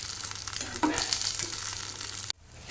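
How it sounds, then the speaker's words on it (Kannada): Kavali patrode, steamed taro leaf rolls, frying on a griddle: a steady close sizzle with a brief scrape midway as a roll is turned, then sudden near-silence at the end. "ಇವಾಗ ಟರ್ನ್ ಮಾಡಿ ಇನ್ನೊಂದು ಸೈಡ್ ಕೂಡ ಅದೇ ರೀತಿ ಫ್ರೈ ಮಾಡ್ತೇನೆ"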